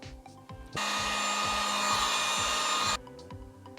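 A heat gun blasts hot air onto heat shrink tubing slid over a wire splice, a loud steady blower roar that starts abruptly, runs about two seconds and cuts off, with quieter tonal background before and after.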